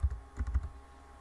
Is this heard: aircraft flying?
no